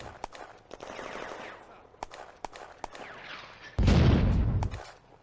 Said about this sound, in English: German artillery has the range and moves to fire for effect